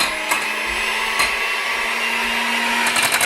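Cream for chocolate mousse being whipped in a bowl by a steady electric motor that whirs continuously at an even pitch, close and loud, with a couple of brief clatters against the bowl.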